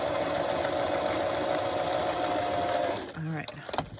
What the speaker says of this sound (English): As long as I don't sew over my pockets